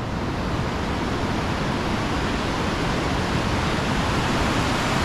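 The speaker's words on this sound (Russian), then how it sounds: "А мне хочется посмотреть поближе вот на тот водопад." A waterfall at Dzhily-Su near Elbrus in autumn gives off a steady, dense roar of rushing water, constant and fairly loud, with no voices.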